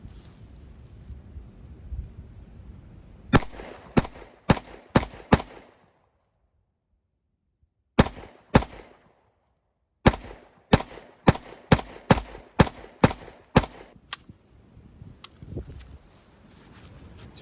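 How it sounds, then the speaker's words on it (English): A Canik METE MC9L pistol fires in rapid bursts of sharp, loud shots, around a dozen in all, separated by brief pauses and a stretch of near silence, over faint outdoor background noise. "Whatever, I'm just gonna shoot some more."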